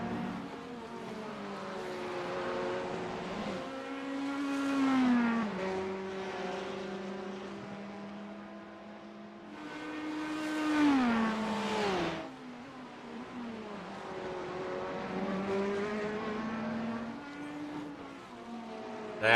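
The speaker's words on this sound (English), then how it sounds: "That Corvette of Stephen Chun out there at number 48." GT3 race cars, including a Corvette and a Porsche, race at Detroit as engines rise and fall in pitch while passing and shifting through gears, loud and continuous.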